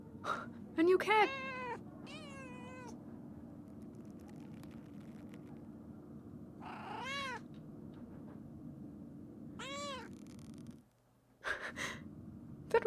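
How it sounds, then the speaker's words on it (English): Several distinct meows from a cat in the video game Pentiment, coming in short bursts spread across the scene over a steady low hum, each cry rising and falling clearly. "A new cat!"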